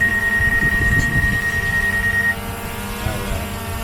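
A small drone hovers nearby with a steady high-pitched buzzing whine that drops to a softer drone partway through.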